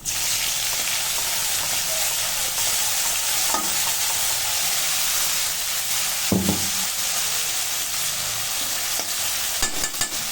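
Spice paste frying in a pan for a boal fish curry, a steady loud sizzle running throughout with a few soft scrapes of stirring, no voices.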